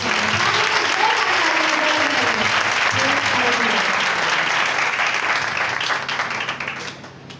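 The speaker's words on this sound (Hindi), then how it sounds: "पाक रूह के लिए जोरदार तालियां" A church congregation claps loudly and steadily with hands raised for the Holy Spirit during a Hindi-language sermon, sustained dense applause with some voices underneath, fading slightly toward the end.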